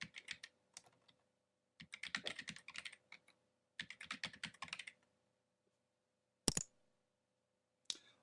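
Keys clatter on a computer keyboard as a new password is entered during software setup, quick bursts of close, crisp typing separated by pauses, ending with two single sharp key presses.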